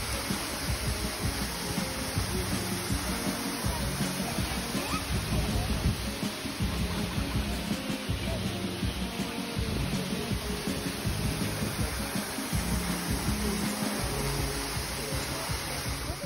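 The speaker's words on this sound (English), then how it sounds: "The main attraction of Minoo Park is undoubtedly the Minoo Waterfall." Minoo Waterfall in Minoo Park, Japan, a 33-metre-high, 5-metre-wide fall in lush autumn surroundings, gives off a steady, unbroken rushing roar of falling water that holds at an even loudness throughout.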